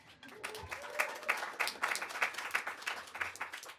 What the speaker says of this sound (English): Sure, you can applaud for that.